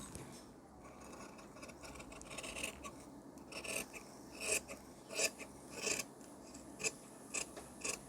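Fabric scissors snip through blouse material to cut a sleeve, a series of crisp rasping cuts that grow louder and more regular toward the end, close up with no speech.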